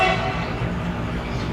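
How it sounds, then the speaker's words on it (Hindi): A train horn sounds at a railway station in a long, steady blast with a low, droning tone, loud and near, over faint background rumble. "स्टेशन पे जब इसे ट्रेन आती है हॉर्न करती है"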